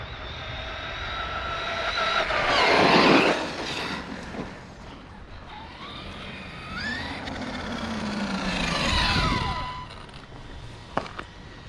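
A remote-control monster truck drives down a driveway, its electric drivetrain whining and rising in pitch as it passes, with one louder burst near the start and another swell later, set against steady outdoor background noise.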